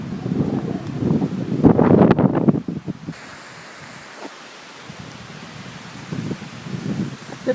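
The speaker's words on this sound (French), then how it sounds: "Le plus gros obstacle de la journée, finalement, aura été le vent." Strong wind blows across a river island on the Yukon River, with loud, rough gusts buffeting the microphone for the first few seconds before easing to a steadier, softer rush.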